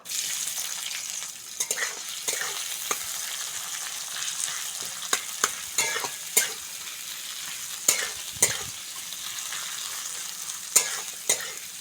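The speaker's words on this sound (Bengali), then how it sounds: "পেঁয়াজটা ভালো করে ভেজে নিয়েছি" Chopped onions and torn bay leaves fry in hot oil in a village kitchen, a constant crackling sizzle broken by repeated sharp spatula scrapes and knocks against the pan, with no voices.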